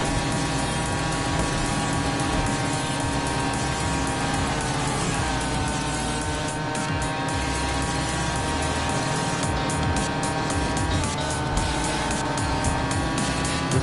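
Racing car engines from the Hot Wheels Unleashed video game, a loud continuous whine with sweeping pitch shifts as the cars accelerate and shift, steady and dense throughout with no talking.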